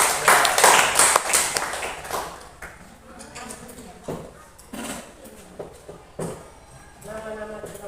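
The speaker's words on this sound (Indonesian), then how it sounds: "tepuk tangan untuk kelompok 1 dulu" A school class applauds a student group's presentation with a burst of close, loud hand clapping at the start that fades out, followed by scattered taps and a teacher speaking.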